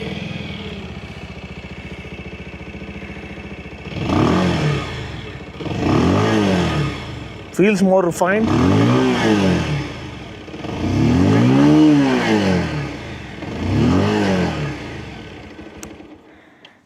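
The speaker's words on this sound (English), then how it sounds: "So this is just the exhaust note. Let's fire her up" A 2026 Bajaj Pulsar 150 motorcycle fires up and blips its throttle in a series of rising-and-falling revs, the exhaust note loud and close, with a brief spoken comment over it.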